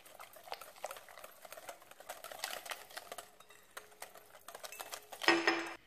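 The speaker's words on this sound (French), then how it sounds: "J'ajoute le lait." Milk poured and whisked into chocolate muffin batter in a bowl, a steady soft wet sloshing and stirring rattle that ends with a louder clatter.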